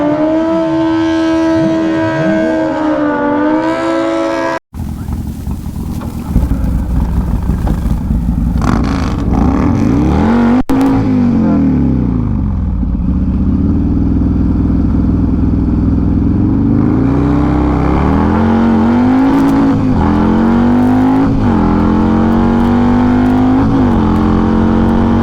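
A 128-inch Softail Fat Bob motorcycle makes a quarter-mile drag pass at a dragway bike night, its loud engine revving hard and climbing through gears, with a brief cut before a long sustained roar and further upshifts.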